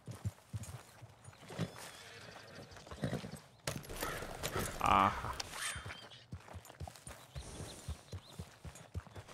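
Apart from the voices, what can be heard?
horse hooves walking in the video game Red Dead Redemption 2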